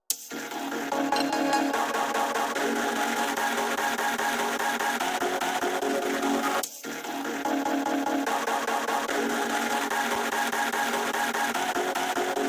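A beat track run through a Vocodex vocoder effect plays continuously and evenly, with dense synthetic tonal layers and one brief dropout partway through.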